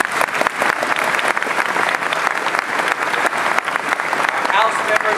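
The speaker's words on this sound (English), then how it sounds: "how about a round of applause for the citizen legislator?" A convention audience applauding, dense sustained clapping from a large crowd that fills the whole stretch at steady loudness.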